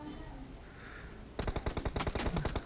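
Rapid automatic gunfire from the video game PUBG bursts in halfway through, a fast run of sharp close shots following a quieter stretch of ambient game noise.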